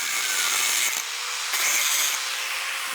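A protruding bolt being cut off, giving a continuous harsh, bright grinding rasp up close that stays loud throughout with small surges, no voices.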